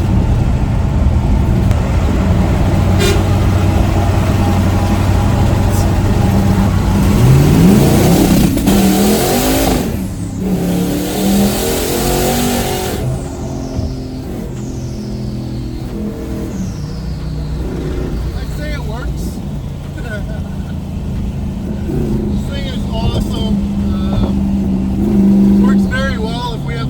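A Hemi engine fitted with an N2MB WOT Box roars close and loud as it revs to around 4,000 RPM, the pitch sweeping up and then dropping back to a rough idle, with people talking over it.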